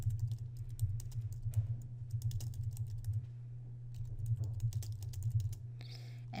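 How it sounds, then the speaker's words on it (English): Steady typing on a computer keyboard, a rapid run of close key clicks in uneven bursts over a low constant hum, pausing briefly midway before resuming. "Now I'm going to continue with the typing."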